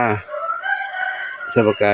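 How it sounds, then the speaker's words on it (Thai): A rooster crows once in a drawn-out call, with brief voice-like sounds just before and after it. "เช้าแล้วไก่ขันเองละ"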